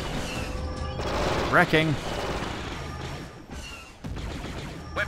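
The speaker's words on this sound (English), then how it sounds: "Oh, there's gonna be a firefight." Star Wars: Republic at War firefight with dense bursts of blaster and cannon fire crackling continuously, layered with explosions and radio-style voice chatter from units throughout.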